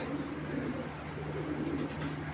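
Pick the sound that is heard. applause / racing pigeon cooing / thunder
racing pigeon cooing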